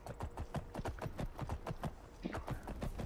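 Horse hooves clip-clopping steadily in the Skyrim video game, a quick, even walking rhythm close by with no talk over it.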